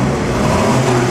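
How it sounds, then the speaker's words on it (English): A Ferrari road car at the 2009 Mille Miglia gives a loud, close engine roar, a steady dense rumble that fills the whole moment. "Ferrari."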